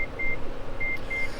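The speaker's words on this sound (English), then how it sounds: "it's just beeping at me just because it's got a smart proximity key and it's letting me know, hey, in case you forget, I'm still running." A 2023 Mitsubishi Outlander PHEV SE sounds its smart proximity key reminder while still running: four short, evenly spaced high beeps in two pairs, clear and close over a soft low hum.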